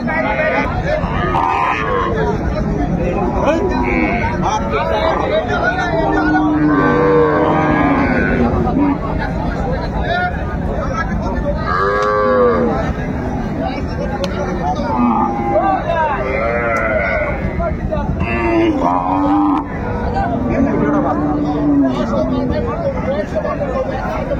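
Cattle moo repeatedly at a busy village livestock market in Dinajpur where cows and calves are sold, several calls rising over a steady crowd babble and near voices.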